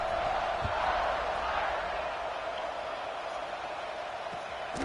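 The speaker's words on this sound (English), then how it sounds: "this crowd is buzzing after that last score" Crowd noise in the NCAA 26 football video game after a score, a steady distant roar and murmur from the stadium with a faint rise early on, heard alone.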